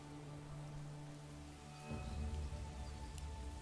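Rain in the medieval village game Manor Lords, a soft steady patter that grows louder and heavier partway through, with a low rumble underneath.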